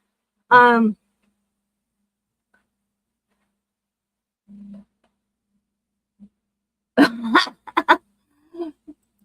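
A small Chihuahua lets out a high yelp, then after a quiet pause several quick, sharp barks and yips follow in a short burst.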